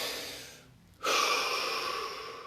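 A single deep breath during a guided relaxation session: a slow, soft inhale tapers off into a short pause, followed by a stronger, breathy exhale that holds steady close to the mic, with no talking.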